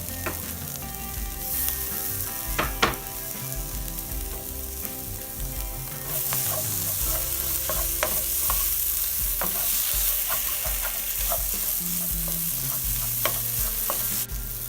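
Chopped tomatoes are stirred into a frying masala spiced with cumin, garam masala and chaat masala. A steady sizzle runs throughout, with sharp spoon clicks and scrapes against the pan at irregular intervals, close and moderately loud, and no talking.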